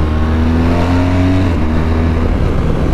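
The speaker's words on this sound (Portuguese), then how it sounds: "O carro atrás se mordendo pra tacar a marcha." A car engine idles low and steady with harmonic hum, close by in street traffic, as a vehicle behind revs impatiently to shift gear; continuous and fairly loud, no talk.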